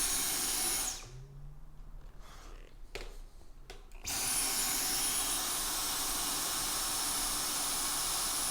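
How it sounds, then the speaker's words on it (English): A Dyson V10 cordless vacuum cleaner on normal setting gives a loud, steady high-pitched whine close by, briefly stopping with a few clicks before starting up again and running on. "So let's listen to the V10 on normal now."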